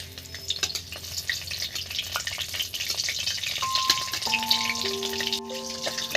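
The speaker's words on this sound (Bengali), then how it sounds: "এবার এ হালকা স্টিমে ভেজে নিচ্ছি বন্ধুরা তেলের মধ্যে।" Green chillies frying in oil for shorshe ilish, a steady close sizzle with stirring clatter and a few faint utensil tones, with no talking.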